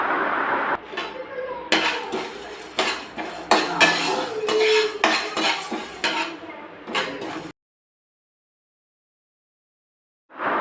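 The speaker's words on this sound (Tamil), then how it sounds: "இது கூடவே வந்து கொஞ்சோண்டு கருவேப்பிலையும் போட்டு நல்லா நம்ம ட்ரை ரோஸ்ட் பண்ணிக்கலாம்" Curry leaves and spices dry-roast in a pan, with a rapid run of metallic clinks and spatula scrapes against the pan for several seconds before silence falls.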